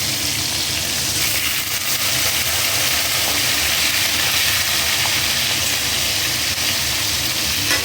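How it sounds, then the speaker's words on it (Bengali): Prawns fry in a pan with a steady, dense sizzle and hiss that stays loud and constant throughout, with no talking. "মাছগুলো হালকা করে এপিট এপিট ভেজে নেবো"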